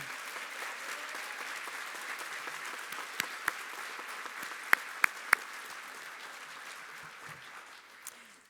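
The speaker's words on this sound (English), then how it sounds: "Please, a round of applause for our graduates of 2020" Audience at a Great Bay Community College commencement ceremony applauds the graduates of 2020 with sustained, even clapping from a large crowd, with a few sharper, louder claps standing out near the middle.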